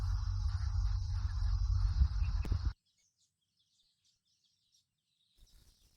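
Birds call and chirp in the jungle amid a dense buzz of insects, loud and steady for nearly three seconds before cutting to near silence, with faint scattered chirps returning at the end.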